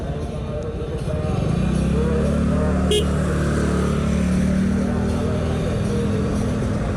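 Dense traffic jam at the Citayam railway crossing in Indonesia, a steady rumble of idling cars and motorcycles close around, with engines droning continuously and a brief higher sound midway.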